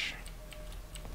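A pocket watch ticks in the Resident Evil 4 game, a handful of faint, evenly spaced clicks under a steady low background hum with no voice.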